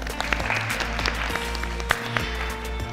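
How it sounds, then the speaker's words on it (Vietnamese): Applause from a studio audience at a Vietnamese televised talent competition, steady clapping under a low sustained musical drone with a few sharper claps standing out. "Chúng ta có thể có một tràng pháo tay thật to dành cho tất cả các bạn được không ạ?"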